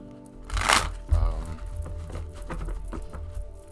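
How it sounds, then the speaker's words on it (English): A tarot deck is shuffled up close, with crisp rustling and flapping bursts of the cards over a few seconds and no talking. "you probably hear me shuffling the cards right now"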